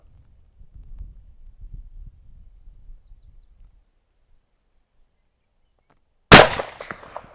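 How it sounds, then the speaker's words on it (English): A falling block single-shot rifle fires once outdoors on gravel, a loud sudden crack with a brief ringing decay, after several seconds of low wind rumble and near silence. "the muzzle blast is stirring up dust right here too, even though we're on gravel"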